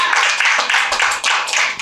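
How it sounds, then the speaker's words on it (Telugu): A church congregation claps along in a sermon, repeated bursts of hand clapping in a loose rhythm, close and loud, with no talking over it. "చప్పట్లు కొట్టి దానికి వందనాలు చెప్తాను."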